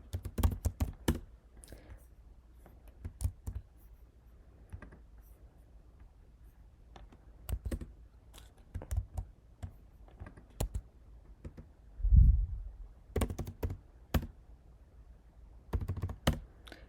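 Someone types on a computer keyboard while writing Java code, producing scattered bursts of quick, light key clicks separated by pauses and one heavier thump, close and fairly quiet, with no talking.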